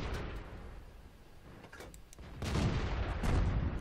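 FV304 self-propelled artillery gun fires in World of Tanks, giving a muffled boom followed by a rolling, rumbling tail over low game ambience.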